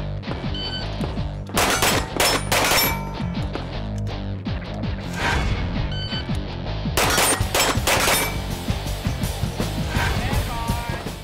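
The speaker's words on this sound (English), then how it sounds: "still, five for five solid shooting from BJ" Pistol gunfire on a 2013 Steel Challenge shooting competition stage: quick bursts of loud, sharp shots with short gaps between strings, echoing over a busy outdoor background.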